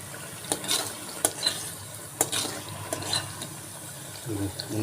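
Raw coconut cooks in a pan to render coconut oil in Nellore. A soft, low bubbling and frying murmur runs throughout, broken by scattered scraping clicks of stirring.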